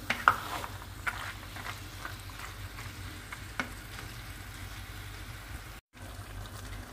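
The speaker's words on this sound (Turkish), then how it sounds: "Bir iki dakikada böyle etiyle, sosuyla fasulye kaynasın" Green beans cooking with meat and sauce simmer and sizzle quietly and steadily, with a few soft stirring clinks and a brief dropout near the end.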